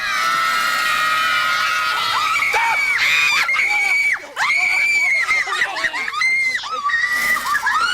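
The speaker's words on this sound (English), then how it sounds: "Leading to the poor young woman running, screaming from Joe's apartment." A young woman screams in a film scene, with long, piercing, wavering shrieks that come loud and close, broken by a brief gap, amid other shouting voices.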